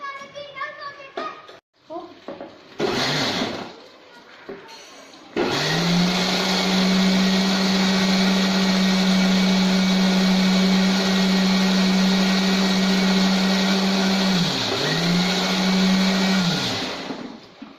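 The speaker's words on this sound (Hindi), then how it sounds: "अब इनको हम पीस लेते हैं, मिक्सी में डालकर पीस लेते हैं।" A mixer grinder grinding tomatoes whirs loudly and steadily for about twelve seconds, dipping briefly once, after short bursts and a voice at the start.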